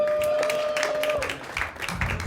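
Audience applause for a comedian at a live comedy show, a steady wash of clapping with some crowd noise and a faint sustained tone running underneath.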